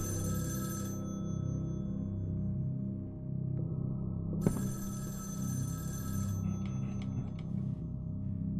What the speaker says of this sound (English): Is that the phone over here,